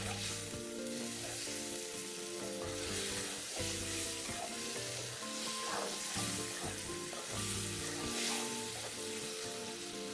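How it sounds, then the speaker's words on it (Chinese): Eggs stir-fried with spices in a wok, giving a loud continuous sizzle and frying crackle with rhythmic stirring underneath, no voices. "最后再将预先备好的鸡蛋加入，与香料食材一起拌炒均匀。"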